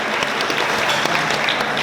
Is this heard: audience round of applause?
yes